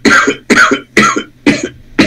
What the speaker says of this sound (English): He's coughing.